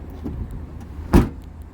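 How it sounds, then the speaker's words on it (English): A single solid thump as the trunk lid of a 2021 Acura ILX is shut, standing out sharply and close against a low, steady background hum. "shutting the trunk now"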